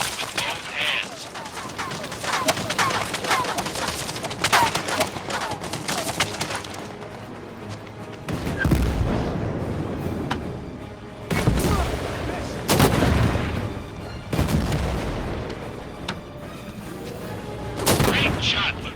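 Gunfire and Panzerfaust blasts aimed at a scout tank in a World War 2 video game: a steady spatter of rifle and machine-gun shots broken by several heavy booming hits, loud and close.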